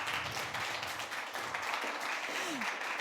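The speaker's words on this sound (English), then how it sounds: "Let's give a round of applause to Alessandro." An audience applauds at a technical talk session, giving dense, steady clapping that fills the room at moderate loudness.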